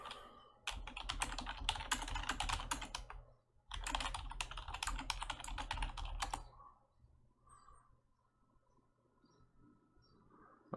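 Rapid keyboard typing in two bursts of clicks with a short pause between, then quiet with faint background ticks.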